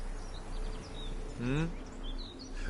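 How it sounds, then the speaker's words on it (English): Birds sing outdoors, with scattered faint chirps and one clearer rising call near the middle, set against a steady low hum and quiet background. "The birds singing, the bees buzzing"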